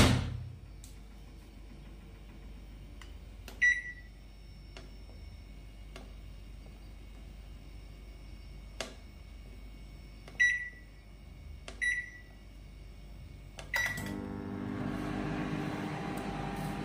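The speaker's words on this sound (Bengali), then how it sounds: "চলো মাইক্রোওভেনে গরম করতে দিই।" A microwave oven heating food runs with a low steady hum, broken by several short beeps and clicks, then a louder rattling whir near the end, close by and with no one talking.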